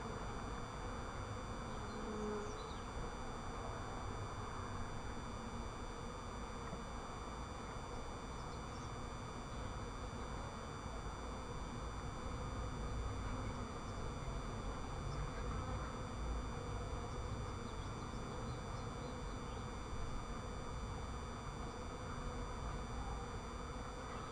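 A honeybee swarm hums at a hive during a first hive installation, a dense, steady buzzing that fills the whole stretch, close and continuous with no talk over it.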